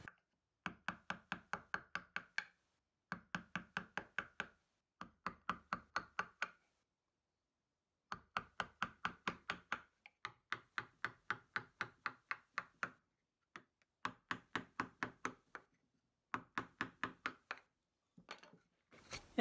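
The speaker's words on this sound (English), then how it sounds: "I'm going to start carving away at it" Knife carving a wooden spoon blank by hand: rapid bursts of sharp, evenly spaced knocking cuts in groups of about eight to ten, separated by short pauses, close and clear with no talking.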